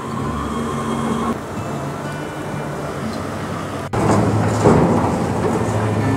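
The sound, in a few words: rain and thunderstorm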